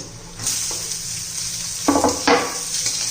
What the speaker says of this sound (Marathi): आता त्याच्यामध्ये आपण कांदा घालू